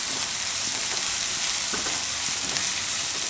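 Green garlic frying in oil for a tomato and green garlic chutney, a steady close sizzle with soft stirring clicks throughout, no talking.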